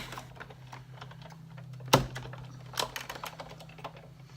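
Cardboard being cranked through a manual die-cutting machine on a tabletop, with soft clicking and rolling, one sharp loud thunk partway through and a few lighter knocks after it.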